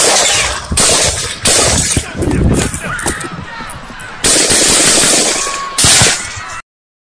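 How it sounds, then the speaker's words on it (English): Gunshots in a recording of the Trump shooting at an outdoor rally: several loud, sharp broadband bursts at irregular intervals over a noisy crowd background, with shouting voices heard between the blasts. "Did those shots sound like firecrackers to you? I heard the shots."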